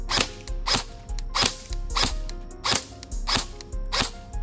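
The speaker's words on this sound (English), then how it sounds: "I'm just gonna shoot a few more shots and that'll be it." Airsoft gun fires seven sharp, evenly spaced shots, each a crisp snap close to the listener with a brief rattle after it.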